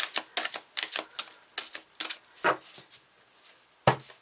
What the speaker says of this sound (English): it's a little harder to shuffle these because they're such big cards